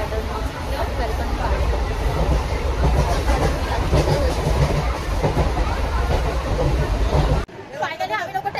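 A passenger train rolling along with a loud, continuous rumble and clatter of wheels on track, crowd chatter mixed in, before the noise drops suddenly near the end.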